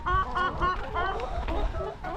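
Several chickens cluck in repeated short bursts, fairly close, with a steady low background rumble throughout, on a farm in hot weather.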